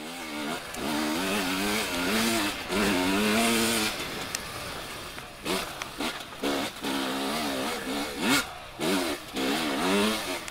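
A 2020 KTM 300 TPI two-stroke enduro motorcycle revving hard off-road, a buzzy, rasping engine rising and falling in pitch, steady at first and then cut into choppy bursts as the throttle snaps open and shut.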